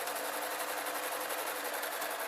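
A sewing machine stitches a seam on a knitting needle roll, its rapid needle chatter running in a steady, continuous buzz close by with no pauses.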